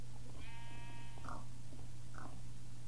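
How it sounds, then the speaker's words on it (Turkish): Minecraft sheep bleating in a Turkish-language game session, a wavering harmonic bleat near 0.4–1.2 s followed by two short bleats, heard over a steady low hum without speech. "Koyun bulduk gençler."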